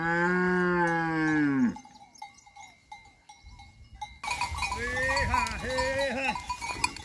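A cow moos loudly and long at first, then after a pause further cattle calls ring out, layered with bleating and other farm animal cries nearby.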